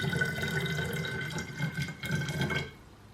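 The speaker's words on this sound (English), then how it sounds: "So now that the simple syrup's cooled, we're going to pour it into the jug." Cooled simple syrup for limoncello pours into a jug, a continuous liquid gurgle and splash that rises in pitch as it fills, then stops abruptly.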